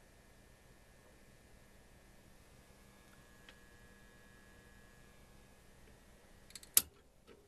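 A compact fluorescent bulb run from a modified sine wave inverter gives a faint, steady electrical hum and buzz that holds unchanged throughout. A sharp click comes near the end, and no one speaks.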